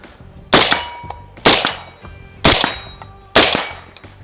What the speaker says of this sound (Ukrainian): Не тільки стріляє, а ще й влучає, друзі.